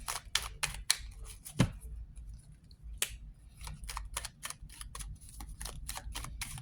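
Tarot cards are pulled from a deck and handled, giving a string of sharp, crisp snaps and flicks close by, irregular at first and then steadier, with quiet gaps between.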